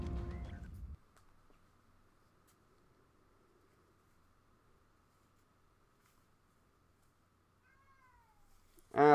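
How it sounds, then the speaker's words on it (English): A cat meows to come in, a short faint rising call followed by a louder close meow at the end, after a burst of noise and a long quiet stretch. "now the cat wants to come in"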